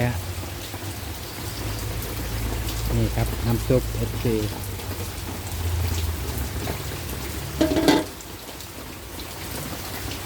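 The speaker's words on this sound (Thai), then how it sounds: "ฝนก็ตก" Steady morning rain falling outdoors, a continuous hiss throughout, while someone talks over it near a pot of simmering soup.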